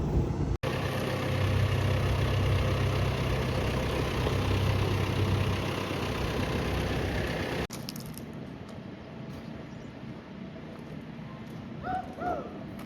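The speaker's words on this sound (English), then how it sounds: "combine's just idling right now" A combine harvester engine idles through a Kansas wheat harvest field, a steady low diesel drone that runs loud for several seconds, then abruptly drops to a quieter, more distant hum.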